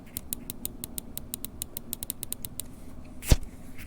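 A G Wolves Skoll Grey gaming mouse is clicked close up, a run of about fifteen small, crisp clicks in quick, slightly uneven succession, followed after a pause by one heavier, louder knock.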